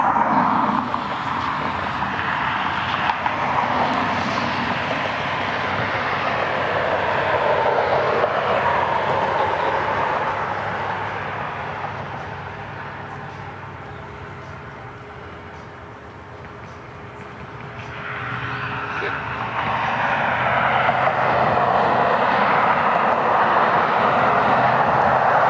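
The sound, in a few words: Boeing 737-900 jet airliner flying at Cleveland Hopkins airport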